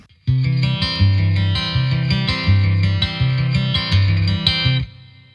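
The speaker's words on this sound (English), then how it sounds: "I'm going to add the reverb back" A clean acoustic guitar, processed through a Line 6 POD Go, plays a repeating chord pattern with a subtle reverb tail softening each strum, then rings out at the end.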